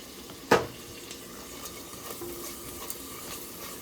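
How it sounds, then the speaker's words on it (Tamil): Onions and tomatoes sautéing in a pan make a soft, low sizzle, broken early by one sharp utensil clack and a few lighter stirring scrapes, with no one speaking. "பார்த்திங்கன்னா வெங்காயம் தக்காளி நல்லா வதங்கிடுச்சு."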